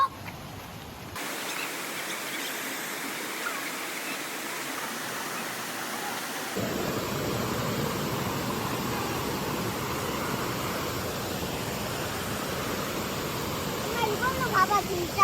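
Mountain valley stream flowing steadily, a broad rushing water wash that grows fuller and louder partway through and continues without break.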